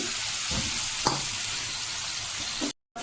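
Bombay duck fish sizzling steadily in a hot pan, a continuous close frying hiss with a brief clink near the middle and a sudden cut to silence just before the end.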